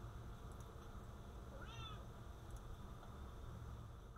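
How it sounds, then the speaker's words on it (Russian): A single brief cat meow rises faintly out of steady room noise partway through, the lone vocal call in an otherwise quiet indoor recording. "Вот даже мой кот возмущается."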